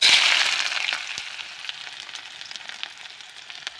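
Chopped onion hits hot oil in a pan with a loud burst of sizzling that settles into a steady, softer crackling fry, close up and with no voices.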